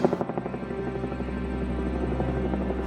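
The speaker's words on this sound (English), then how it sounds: "The helicopter flight to Franz Josef Glacier." Helicopter on a flight to Franz Josef Glacier, its steady rotor thump and engine drone loud and continuous throughout, with no talking.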